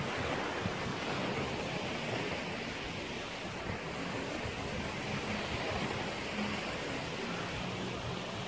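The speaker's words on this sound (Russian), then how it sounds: "И такое море." Sea waves roll onto a white-sand beach in Punta Cana, Dominican Republic, a steady broad wash of surf with some wind noise, continuous and fairly loud throughout.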